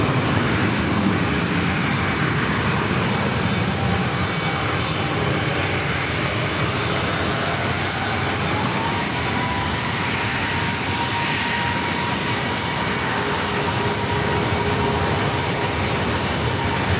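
A Southwest Airlines jet roars steadily on the runway at San Diego airport, a loud broadband engine rush holding without a break for the whole stretch.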